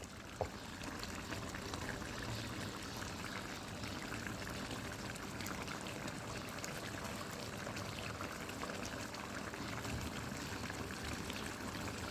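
Water pours steadily into a pot of chicken red curry, a continuous close splashing trickle that runs unbroken for about twelve seconds with no talking.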